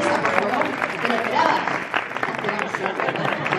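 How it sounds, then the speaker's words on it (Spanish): Loud, dense clapping from a crowd greets Gryffindor at a Harry Potter exhibition in Madrid, continuous throughout with voices mixed into the noise. "Gryffindor, un fuerte aplauso"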